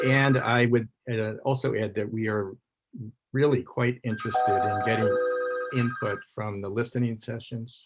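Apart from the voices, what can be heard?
telephone ringing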